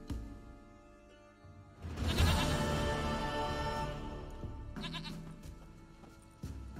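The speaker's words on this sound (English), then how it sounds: "Goat of mine, dearest," Goat bleating in The Witcher 3 video game, a loud wavering bleat that swells up after a quieter stretch and carries on for several seconds, with a second bleat starting near the end.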